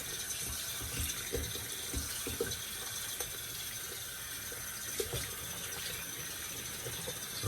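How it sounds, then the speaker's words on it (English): A shave soap container is rinsed out under a running tap, giving a quiet, steady hiss of flowing water with faint low knocks and clatters of the container throughout, and no talking. "I'm going to rinse this out a little bit"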